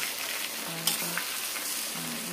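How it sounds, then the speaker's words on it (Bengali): Boiled olives sizzle and crackle in hot mustard oil in a pan, a soft, steady frying hiss with faint stirring scrapes, close and fairly quiet, with no talk. "সিদ্ধ জলপাইগুলো দিয়ে আমি একটু নাড়াচাড়া করে নিলাম"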